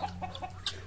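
Backyard chickens fed kale leaves give soft, short clucks close by, a few quick calls in under a second over low background hum.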